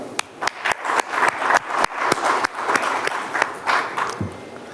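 Audience applause fills the hall at the India Today Conclave 2021, a steady wash of many hands clapping with sharp individual claps standing out, moderately loud and sustained before tapering off near the end.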